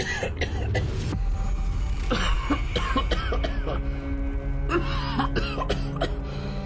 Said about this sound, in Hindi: वो जोर जोर से खांसने लगता है